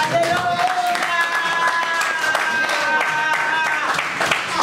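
A church congregation claps and applauds steadily in a dense, continuous patter, loud and close, while a voice speaks over it.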